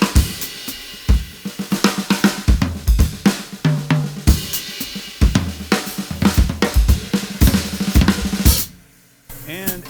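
Gretsch Brooklyn Standard snare drum played wide open with its internal muffle turned off, loud ringing hits in busy fills and rolls alongside other drums, stopping abruptly near the end.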